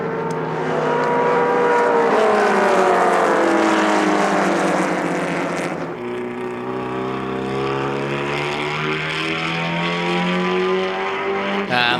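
Production and GT race cars up to 5 litres lapping at the Sonoma Speed Festival, loud engines droning and shifting pitch as several cars pass close by one after another, no clear speech.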